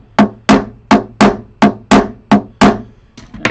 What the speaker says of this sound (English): one of my favorite things to do is to hit a guitar with a hammer